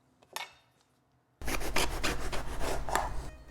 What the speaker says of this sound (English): Let's cut up this eggplant.